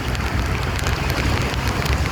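Steady rain patters densely on a surface, loud and close, with a low rumbling undertone like wind.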